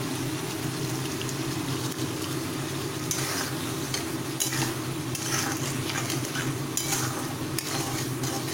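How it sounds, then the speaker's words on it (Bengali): Capsicum pieces are sautéed into a sizzling masala for a paneer dish, with a steady, faint frying hiss and intermittent scraping stirs in the pan and no voices. "এবার মশলাটা কষানোকালীনই আমি এর মধ্যে দিয়ে দেবো কিছু ক্যাপসিকামের টুকরো"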